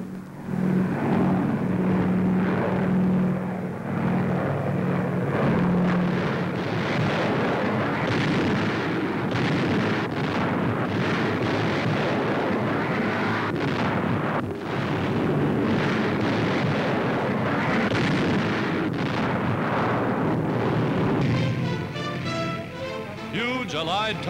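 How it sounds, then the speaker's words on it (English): Allied bombers over Italian roads in 1943 wartime newsreel footage, a dense continuous roar of engines and rumbling explosions filling the whole stretch, loud and unbroken, with a narrator speaking over it. "Allied planes continue to blast the enemy from the air"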